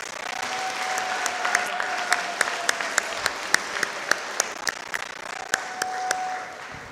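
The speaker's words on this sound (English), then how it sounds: "Let's give them a big round of applause, please." A crowd claps for scholarship recipients at a Grade 12 graduation ceremony at Khalsa School of BC, sustained steady applause with a few sharp individual claps, heard from a moderate distance.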